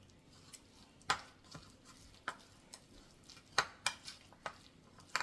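Tuna salad stirred with mayonnaise in a bowl, soft sporadic clicks and taps of a utensil against the dish, quiet and close, with irregular spacing.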